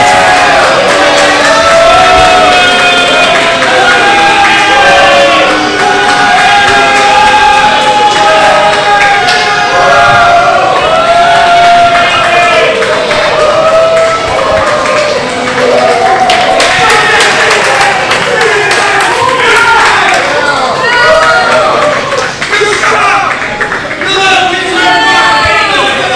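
Wrestling crowd roaring and cheering for Chris Andino's entrance at a 1CW show, a dense continuous wall of shouts, whistles and clapping, loud and close throughout with entrance music underneath.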